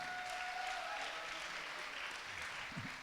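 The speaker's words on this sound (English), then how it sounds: "Give her another round of applause." An audience at a graduation celebration applauds steadily, a dense, even wash of many hands clapping that holds throughout at moderate distance.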